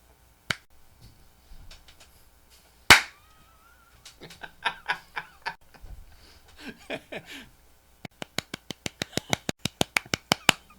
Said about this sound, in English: Somebody clap.